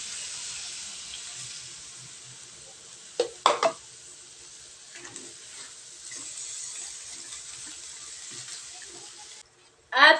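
Coconut milk for Bicol express simmering and sizzling steadily in a pan, with a few louder clinks of stirring partway through and near the end.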